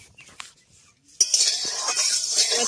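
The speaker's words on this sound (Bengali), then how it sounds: "কড়াইটাকে গরম করে কড়াইয়ের মধ্যে দিয়ে দিচ্ছি অল্প পরিমাণে সর্ষের তেল" Mustard oil poured into a hot kadai for frying fish paturi; after a quiet start with faint clinks, a sudden steady hiss and sizzle rises as the oil meets the hot metal.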